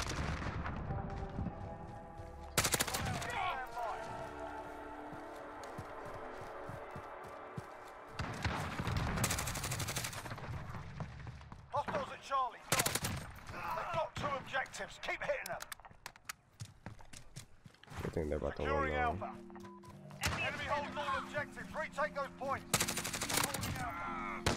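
GRAU 5.56 assault rifle fire in the video game Modern Warfare, rapid automatic bursts in repeated volleys separated by short pauses, loud and close, with occasional talk between bursts.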